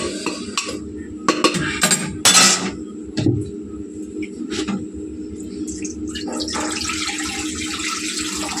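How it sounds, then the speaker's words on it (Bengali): Hot water poured into a pot of mutton curry, with a steady rushing pour building in the second half, preceded by a few sharp clinks of utensils against the pot. "মধ্যে গরম জল দিয়ে দেবো।"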